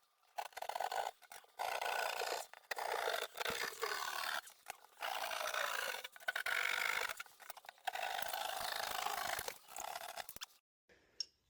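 A tool cuts through a drywall ceiling to make an opening for a whole house fan, heard as repeated harsh scraping, rasping strokes in bursts with short pauses, fairly close.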